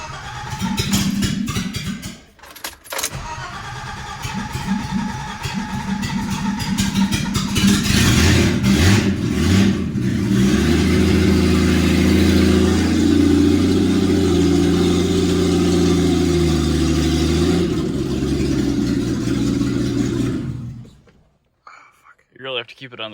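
A BMW E30 with a new exhaust starts for the first time in a garage, its engine revving up and down unevenly before settling into a loud, steady idle that runs for about ten seconds and then cuts off.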